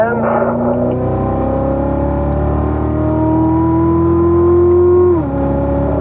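A race car engine drones loudly onboard around a track, holding a steady harmonic pitch that climbs gradually, then drops abruptly near the end as the driver downshifts for a corner; a voice talks over it.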